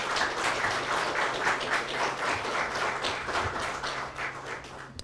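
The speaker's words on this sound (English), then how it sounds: "I will now ask those who have just been sworn in to give an applause to your family and to those who pinned you" Crowd at a 2023 Escambia County deputy sheriff swearing-in ceremony applauding the new deputies' families, steady sustained clapping from many hands in a large room, no talking over it.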